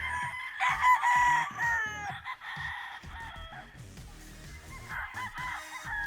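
Battle stag gamecock roosters, young crossbred fighting cocks, crow repeatedly at close range, long strained calls overlapping one another with some clucking between them and no talk.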